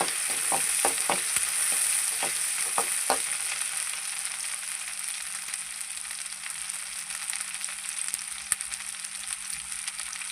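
Ingredients for a crab gravy sauté in hot oil, giving a steady, bright sizzle with a few sharp pops and spoon taps early on, then settling into an even, close frying hiss with no talk.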